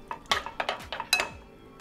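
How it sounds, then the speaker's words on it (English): A spoon clinks and scrapes against a pot while breaking up miso in water, a handful of quick close taps and stirs in under two seconds. "Break up the miso with a spoon and then add another 1/2 cup of cold water."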